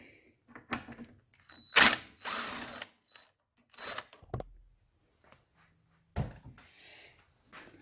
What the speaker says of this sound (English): there is going to be another little 1/4-inch bolt that looks like up here, which I will take off as well